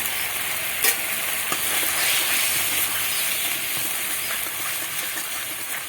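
Spiced masala sautéing in a pan with homemade tomato ketchup for a pointed gourd and potato curry, a steady close sizzle with scattered stirring scrapes and clicks throughout.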